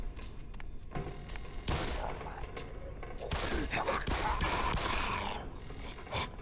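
Gunfire from the video game Black Mesa: dense, continuous bursts of shots and impacts crowd the whole stretch, loud and busy with rumbling game effects layered underneath.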